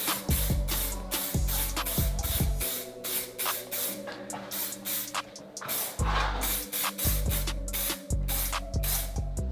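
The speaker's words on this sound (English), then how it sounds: "And to finish off, on with a clear lacquer." Clear lacquer sprays from a can onto a part of a 1991 Honda CR125 motorcycle, a rhythm of short, close hissing bursts separated by brief pauses.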